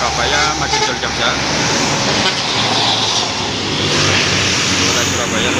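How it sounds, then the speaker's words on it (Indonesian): A Sugeng Rahayu intercity bus on the Surabaya–Madiun–Jogja route roars past close by, a steady broadband engine and road rush amid traffic, with someone speaking over it. "Ada bus Sugeng Rayu Surabaya Madiun Jogja."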